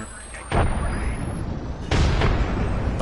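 A frag grenade detonates in Apex Legends with two heavy, loud blasts about a second and a half apart, each followed by a rumbling tail.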